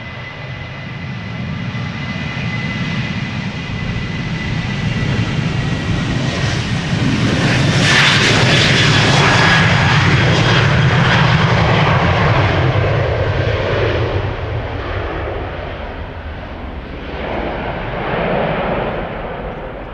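A KLM Boeing 737-800 departing Amsterdam Schiphol Airport roars loudly and steadily, its jet engine noise swelling to a peak midway and then fading slightly as it climbs away, with no talk.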